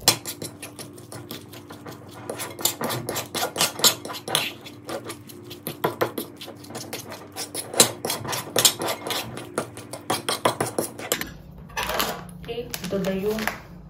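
A spoon clacks rapidly and steadily against a bowl as almond-flour batter for syrniki is stirred close up, followed by a short stretch of speech.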